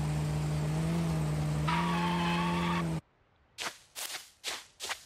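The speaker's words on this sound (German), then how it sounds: "wenn ich jetzt ins Auto steige, ne? Dann müsste ich ja so viel Krach machen." A car engine from the survival video game No One Survived hums steadily and rises in pitch, then cuts off and is followed by several short, loud whooshing bursts.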